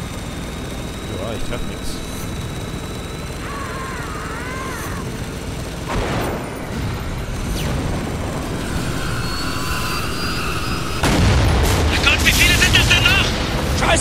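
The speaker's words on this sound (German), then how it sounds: "Ganz schön viele Hubschrauber." Helicopter rotors and explosions in the war shooter Spec Ops: The Line, set in Dubai: a steady low engine roar with bursts of gunfire and a loud blast rising near the end, under excited talk.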